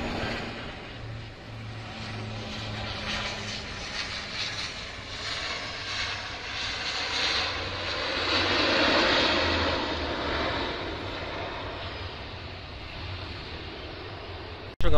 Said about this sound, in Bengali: এই বিমানটি বন্দরনগরী চট্টগ্রাম থেকে 45 মিনিট পথ উড়ে ঢাকায় অবতরণের জন্য এগিয়ে আসছে।